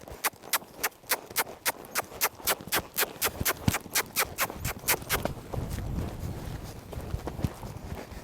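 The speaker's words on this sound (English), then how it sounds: "now I want to go ahead and lope him, get him moved out" A wild horse being tamed clip-clops in a rapid, regular hoofbeat rhythm, loud and close for about five seconds, then fades into softer, muffled footfalls.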